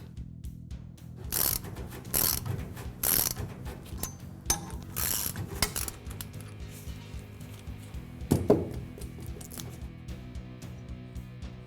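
Ratcheting clicks as the impression jacks of a 31-piece wheel bearing tool set are tightened with uniform tension on a wheel hub, bursts of mechanical clicking repeating in uneven runs, then a sharper metallic knock near the end.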